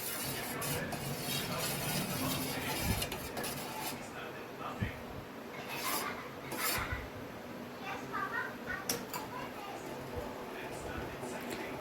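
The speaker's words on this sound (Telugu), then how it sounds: "మిల్క్ వేసుకున్న తర్వాత కూడా ఒకసారి బాగా మిక్స్ చేసుకోండి." A spoon stirs milky tea in a metal pot, scraping and clinking in irregular strokes, moderately close, with faint speech in the background.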